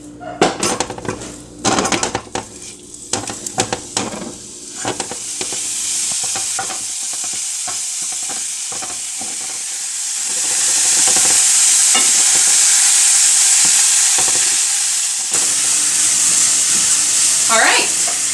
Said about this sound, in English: And now I'm just going to cook the sausage until it's completely cooked.